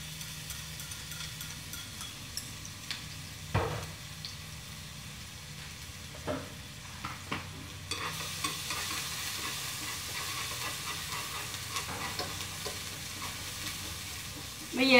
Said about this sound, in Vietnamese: Giờ cô bắt đầu phi tỏi.